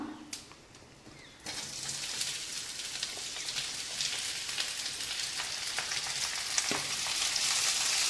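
Onions dropped into hot oil start a loud, steady sizzle that keeps crackling and grows slightly more intense, with a brief clink of a utensil.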